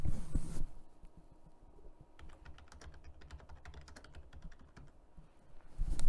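Rapid clicking of a computer keyboard as a folder description is typed, a quick run of light keystrokes in the middle, close and quiet, framed by soft noises at the start and end.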